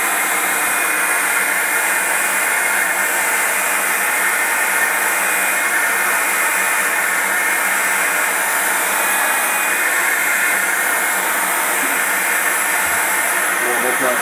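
A heat gun blows steadily on plastic on a lithium EV battery pack during a BMW EV conversion, making a continuous loud, even hiss and whoosh that holds without a break for the whole stretch.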